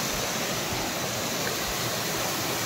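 A waterfall pours in a steady, dense roar of rushing water that continues without pause.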